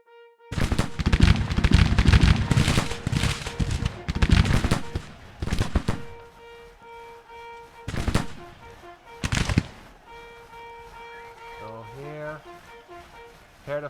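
Rapid gunfire and cannon shots from a Grand Tactician Civil War battle: dense crackling volleys for several seconds, then scattered separate booms and fading reports, with a faint voice and musical tones underneath.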